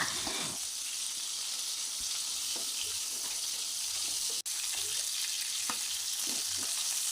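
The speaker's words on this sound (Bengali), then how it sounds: "লাল করে হালকা ব্রাউন করে ভেজে নিতে হবে" River crabs frying in a pan until lightly browned, a constant close sizzle with occasional stirring taps and no talk.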